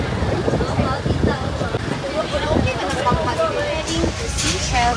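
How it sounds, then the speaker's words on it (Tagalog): Strong wind blows at a beach resort on Samal Island, a continuous loud rush of gusts buffeting the microphone while people talk underneath. "Masyadong mahangin."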